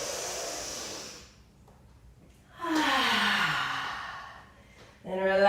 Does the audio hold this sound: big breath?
yes